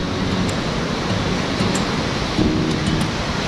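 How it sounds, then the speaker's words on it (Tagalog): Floodwater after a typhoon rushes under a bridge in San Jose, Camarines Sur, a dense, steady roar of churning water close by, with no talking. "Dito, bumabangga yung tubig."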